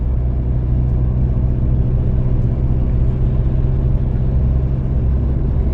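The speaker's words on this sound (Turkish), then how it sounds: "Biraz dışarıdan yol sesi alıyor, lastik sesi alıyor araç." Steady road and tyre roar inside a moving 2012 Ford Fiesta 1.4 TDCi diesel on worn 15-inch tyres, a constant loud low rumble with no talk.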